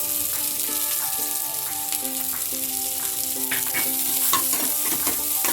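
Capsicum frying in a pan for a crispy gobi manchurian, a steady loud sizzle with spatula stirring scrapes and clinks running throughout.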